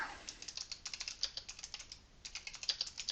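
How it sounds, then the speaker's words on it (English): Rapid clicky keystrokes on a gaming keyboard, a steady stream of sharp taps with a short lull midway, close and fairly quiet without speech. "Your typing is really loud, sir. I have a gamer keyboard."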